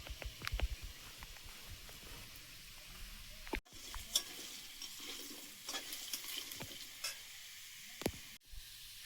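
Potatoes frying in a pan, a soft continuous sizzle broken by occasional scraping stirs and clinks of the spatula, close but quiet with no talk.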